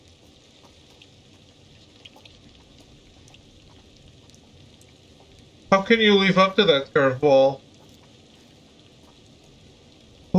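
Steady rain in the horror video game The Dark Pictures Anthology: The Devil in Me, a soft continuous hiss throughout, with someone talking briefly over it midway.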